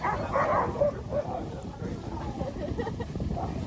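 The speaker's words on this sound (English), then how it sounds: "they were just barking when they were stuck" Several dogs bark and yip in short bursts near the start, then whimper more faintly under steady background noise and some talking.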